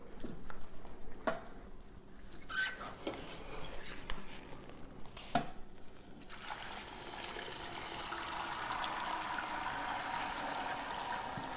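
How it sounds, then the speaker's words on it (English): Chicken bone broth pours through a strainer after a few sharp clinks, turning into a steady, fairly quiet gushing trickle of liquid that runs to the end. "And the rest I'm just going to pour through."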